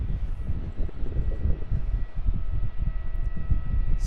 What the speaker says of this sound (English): Qantas Airbus A321-200 coming in from Perth